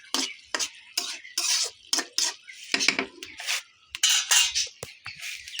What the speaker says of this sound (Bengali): করলা ভাজি রান্না করতেছি।